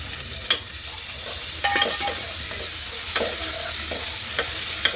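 Onions, green chili and ginger-garlic paste fry in hot oil in a pot over a wood-fired stove. A steady hiss runs throughout, broken by a few scraping stirs and light clinks from a spoon. No one speaks.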